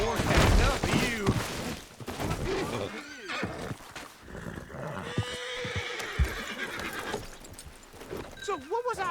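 A horse in the video game Red Dead Redemption 2 lets out loud, close whinnies along with hoof clatter. Bursts of gunfire and talking voices come and go around it.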